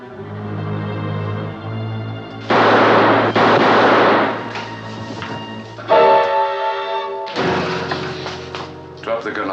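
Gunshots fired at a dummy in an episode of Voyage to the Bottom of the Sea, sharp bursts breaking in around 2.5 and 6 seconds amid dialogue and background score.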